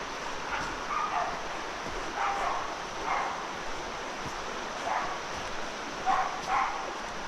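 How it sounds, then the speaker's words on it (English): Several dogs barking in bursts from a distance on a riverside walk at the edge of Dartmoor, over a steady outdoor wash of wind and rushing water. "Sounds like some excitable dogs ahead."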